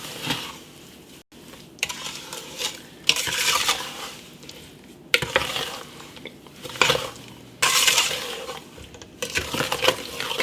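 Jam of cranberries and strawberries with sugar stirred in a pot, heard as bursts of gritty scraping and spoon-against-pot clatter separated by short pauses, close and moderately loud.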